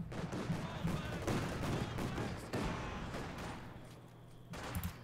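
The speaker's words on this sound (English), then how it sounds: "The mortar's shooting, but also the SU." Mortar and SU self-propelled artillery firing in the WWII strategy game Company of Heroes 2, a dense run of booming blasts and crackling gunfire that fills the whole stretch and stays loud throughout.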